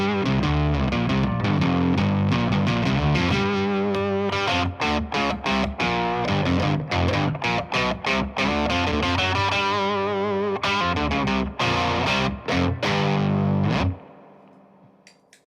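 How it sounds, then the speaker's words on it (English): An electric guitar runs through an octave pedal into an overdrive pedal, giving thick, fuzzy, sustained chords with choppy rhythmic stabs throughout. It is loud and close, with no voices, and cuts off into a fading ring near the end. "Octave into overdrive or overdrive into octave."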